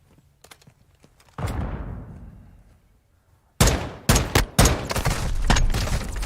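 Heavy-recoil gunfire in Call of Duty: a few sharp taps, then a big blast decaying over two seconds, followed by a rapid burst of loud close shots.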